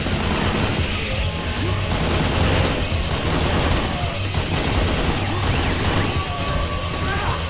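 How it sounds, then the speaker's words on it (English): Bombs exploding in the video game Painkiller, a dense, constant barrage of crashing blasts and gunfire that stays loud and near throughout. "Bombs everywhere."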